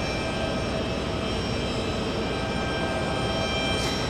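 An Airbus A321neo jet airliner on arrival at JFK airport produces a continuous broadband engine roar and rumble at moderate distance, steady throughout with no voices.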